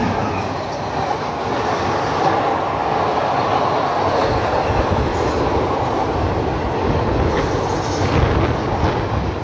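The Shahid Express superfast train runs on rails near Bolpur Shantiniketan with a loud, steady close rumble of wheels on track, faint clatter and occasional high squeals throughout.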